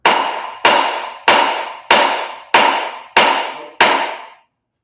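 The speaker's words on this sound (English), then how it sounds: "we'll find out when I hit it with a bigger hammer" A bigger hammer strikes a metal rod part in a rod shop, seven evenly spaced loud ringing blows about two-thirds of a second apart, each leaving a bright metallic ring that decays before the next hit.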